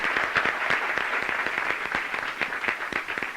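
An audience at a 2017 town hall meeting breaks into applause, brisk individual claps standing out in a moderately dense, close round that continues for a few seconds.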